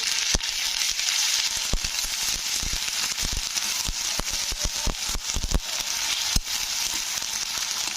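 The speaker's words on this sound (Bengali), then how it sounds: "এবারে এটাকে কিন্তু নাড়তে হবে যতক্ষণ আদা রসুনের গন্ধটা কাটছে" Ginger garlic paste fries in hot oil with fried onions for a fish curry, a dense, continuous sizzle broken by sharp crackles and pops as it is stirred, close up with no voices.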